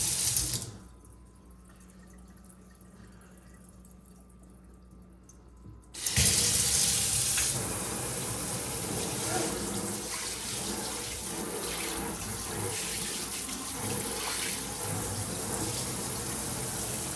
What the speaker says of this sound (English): Now it's finally time to turn on the water, open the valves, test to see if the sink works,